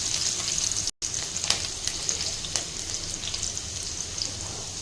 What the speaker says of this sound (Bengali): আদা রসুন কুচিটা দেওয়ার পর আমি একটু হালকা নেড়ে নিচ্ছি